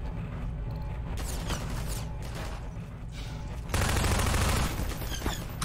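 Gunfire in the shooter Half-Life 2 during a combat fight, with several sharp shots and clattering bursts, then a louder crashing barrage midway, close and punchy with no speech.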